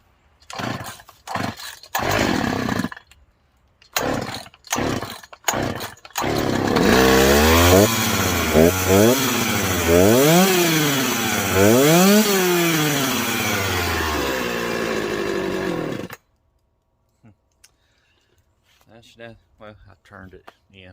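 A modified Husqvarna 359 chainsaw starts with several short bursts, then runs loud and close with repeated revving that rises and falls for several seconds before cutting off, leaving a faint quiet tail.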